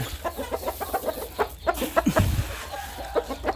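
Chicken clucking on a poultry farm, short repeated clucks in a steady run at moderate distance with low background hum, no speech.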